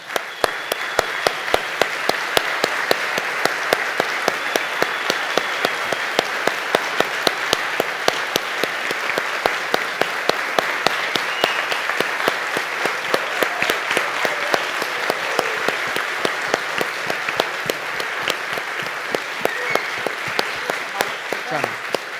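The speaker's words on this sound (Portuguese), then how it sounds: "E eu gostaria que dêem um aplauso forte a todos eles." A crowd gives a long, loud round of applause for organization members at a gathering, a thick, even roar of clapping sustained for over twenty seconds, with a voice faintly heard beneath it.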